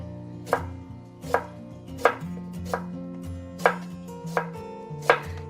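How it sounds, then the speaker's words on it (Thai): A knife slices Korean radish into even rounds on a cutting board, about eight crisp, evenly spaced chops heard up close with no talking. "ใช้วิธีการหั่นเป็นแว่นๆนะคะ ให้ความหนาค่ะเสมอกันค่ะ"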